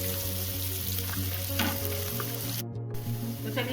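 Onions fry in a pan, a continuous soft sizzle and crackle with occasional stirring scrapes, fairly quiet and steady throughout with no talking.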